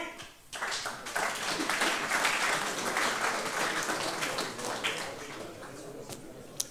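Audience applause after a talk on Europe and the euro swells quickly from a quiet start into a broad wash of clapping, then gradually thins and fades, ending with one sharp clap.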